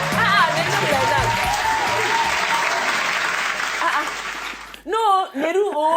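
A studio audience at a Nigerian TV night show breaks into loud, sustained applause with a few chuckles, which cuts off abruptly as people start talking near the end.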